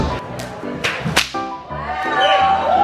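Sharp whip cracks from a cowboy's rope-and-whip act, several loud snapping pops in an irregular series over a steady background of crowd or room noise.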